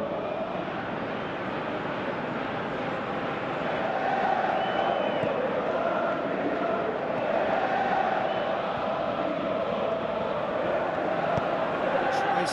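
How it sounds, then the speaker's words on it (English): A broad, steady roar of a large stadium crowd in the PES football video game, swelling slightly midway, with a commentator's voice talking over it during Scotland vs Albania. "you can hear how the crowd are reacting to this too"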